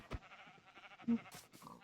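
Sheep in the Minecraft video game let out a few short bleats over soft background game ambience, including one louder bleat near the middle.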